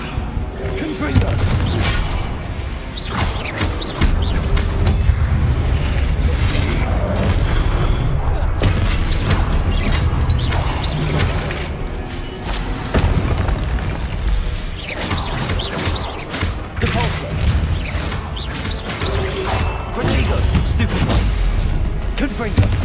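Confringo spell explosions burst again and again in Hogwarts Legacy combat, with dense, booming blasts and crashes packed close together for the full stretch and faint voices mixed in.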